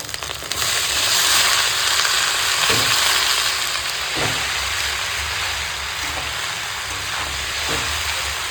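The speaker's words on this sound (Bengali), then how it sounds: "এখন হালকা হাতে মিশিয়ে নিচ্ছি" Chow mein noodles with egg being tossed and mixed in a hot pan, a loud continuous sizzle with occasional soft scraping knocks of the utensil.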